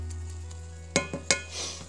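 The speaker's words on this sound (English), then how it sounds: "I'm just going to stir it around just enough to make sure we get egg all over the bottom there." A utensil stirring eggs frying in a pan for a veggie omelette: soft steady sizzle with three quick scraping clinks against the pan, close up and without speech.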